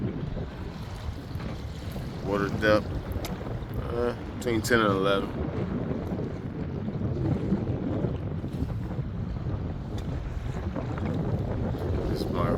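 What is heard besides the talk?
wind blowing while kayaking on the Chesapeake Bay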